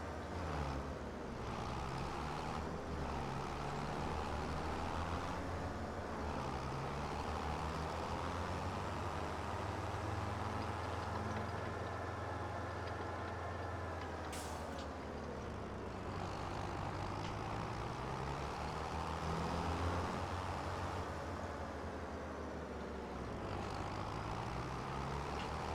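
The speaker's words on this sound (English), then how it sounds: "Tractor that's 40 miles an hour." A tractor in the video game Farming Simulator 25 runs at about 40 miles an hour, its engine droning loudly and steadily throughout with shifting pitch, as though accelerating and easing off, with no voices.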